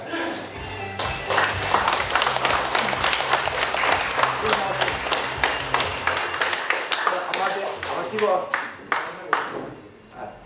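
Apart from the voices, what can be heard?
audience applause at a book launch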